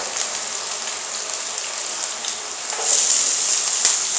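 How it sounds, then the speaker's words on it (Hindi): Capsicum hits hot oil with browned garlic and green chili in a pan and sizzles steadily, the frying swelling louder and brighter partway through. "अब हम इसमें शिमला मिर्च ऐड करेंगे"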